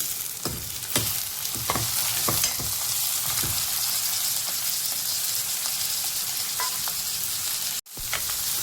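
Chopped onion and tomato frying in a pan of oil for a Konkani greens dish, a close, continuous crackling sizzle broken by stirring scrapes, fading briefly near the end before resuming.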